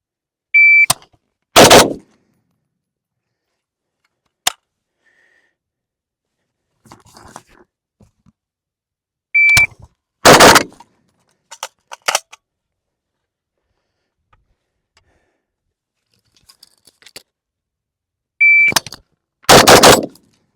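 Norinco 84-S AK rifle in 5.56 firing three sharp, loud shots spaced several seconds apart, each with a brief crack and short outdoor echo, with faint handling clatter between them and no talking.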